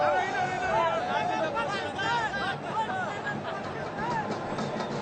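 Cricket stadium crowd during a Pakistan v Sri Lanka T20 match, a steady wash of distant chatter and murmur from many spectators, filling the background evenly with no single voice standing out.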